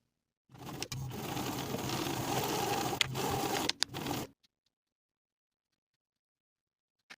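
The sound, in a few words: sewing machine stitching the raw edges of a fabric strip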